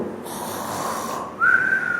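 A voice mimics heavy snoring, a raspy drawn-out breath followed by a sharp whistling rise near the end, loud and alone.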